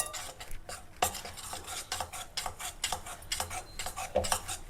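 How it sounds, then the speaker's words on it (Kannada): A spoon beats a milk and maida batter for buns in a bowl, making a quick series of light clicks and taps against the bowl, close and fairly quiet. "1 ಸ್ಪೂನ್ ತೊಗೊಂಡು ಇದನ್ನೆಲ್ಲ ಚೆನ್ನಾಗಿ ಈ ಥರ ಬೀಟ್ ಮಾಡಬೇಕು."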